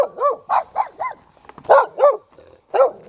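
A dog barks repeatedly at close range, a quick run of sharp yips and barks with brief pauses between them.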